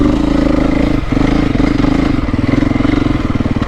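A Beta 350 Solo dirt bike engine runs hard while being ridden, a loud, steady buzzing drone with rapid pulsing and a brief dip, close to the rider throughout.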